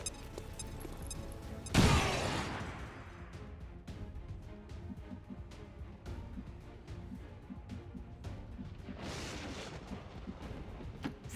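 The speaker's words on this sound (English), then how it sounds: "Grenade!" A grenade goes off in XCOM 2: Long War of the Chosen, one loud near blast with a rumbling decay that settles into steady background game noise, with another swell of sound later on.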